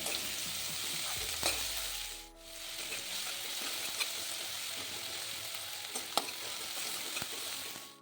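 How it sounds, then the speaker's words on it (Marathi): Chopped onion sautés in a kadhai, cooking toward a pink then golden colour, with a steady, close sizzle running throughout and occasional scrapes and clinks of a stirring spoon. "कांदा मी कळीमध्ये छान परतून घेत आहे"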